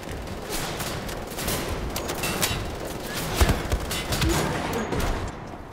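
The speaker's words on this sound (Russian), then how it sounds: "давайте-ка мы тебе вот сюда выстрелим" Rapid video game gunfire from Wolfenstein: The Old Blood, a dense continuous fusillade of shots with louder bursts mid-way, loud and close with no talk over it.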